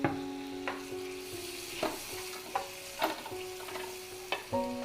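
Chopped tomato being stirred into a prawn roast masala in a pan, soft sizzling under distinct scraping strokes of a spoon, several separate stirs spaced across the moment, fairly quiet and close.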